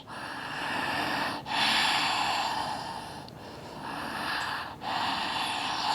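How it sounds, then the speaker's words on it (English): Someone holding a yoga pose breathes deeply and audibly through the nose, with long breaths close to the microphone and short pauses in between. "A few more grounding rounds of breath"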